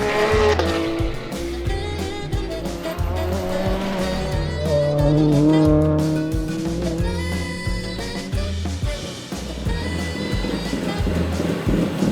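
BTCC hybrid touring race cars from the Napa Racing UK team running on track at Snetterton, engines droning steadily and loud throughout with rising and falling tones, no talk over them.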